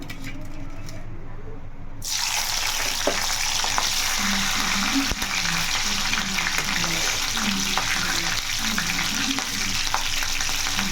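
Green chillies drop into hot oil in a pan for a tamarind fish curry, a loud, steady close-up sizzle that bursts in after a quiet start and keeps crackling throughout.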